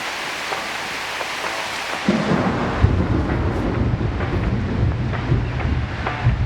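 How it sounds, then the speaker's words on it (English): Heavy rain and thunder in a video game, a wide steady roar that swells sharply after a quieter opening, with low rumbling and gusty wind underneath and no talking. "So are we soaked or is it literally raining in the house?"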